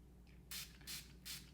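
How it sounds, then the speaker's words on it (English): Versali setting spray misted in three short, evenly spaced spritzes, each a close, bright hiss lasting about a quarter second. "Taking my Versali spray."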